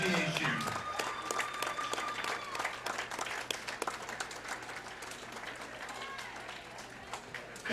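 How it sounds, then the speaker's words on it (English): Crowd applause at a high school bowling state finals, steady sustained clapping from a large audience in a reverberant bowling alley, with a low constant hum and a brief chime beneath it. "So I really think y'all need to give these guys a standing ovation"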